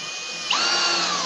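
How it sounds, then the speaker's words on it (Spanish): A power drill drives a screw into wood for a modern wood-and-melamine table, its motor whining steadily and then rising in pitch midway as the screw seats, loud and close with no talking. "Colocas el segundo tornillo, lo metes lo más que puedas para que siga el camino que hizo la broca finita y atornillas."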